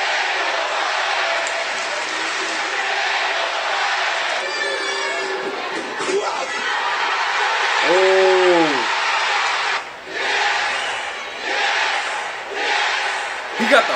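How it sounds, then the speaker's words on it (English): A wrestling arena crowd roaring and chanting "yes" in unison, a dense, loud wash of many voices with rhythmic swells, heard from within the arena. "He got the whole crowd chanting yes."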